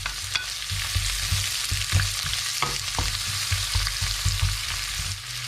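Ginger and onion frying in a pan, a continuous close sizzle with repeated scraping and tapping of a utensil as they are stirred, no talking.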